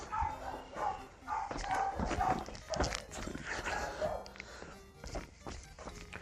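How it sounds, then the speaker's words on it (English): Dogs bark repeatedly outdoors near a house, sharp yaps and woofs arriving in irregular bursts at moderate distance, mixed with footsteps and other clatter. "Bro, it is non-stop with those dogs barking."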